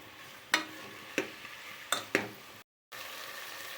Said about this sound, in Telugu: ఇప్పుడు ముందుగా కడిగి పెట్టుకున్న చికెన్ని ఈ ఆయిల్లో వేసుకొని 2 నిమిషాల పాటు ఫ్రై చేసుకోవాలి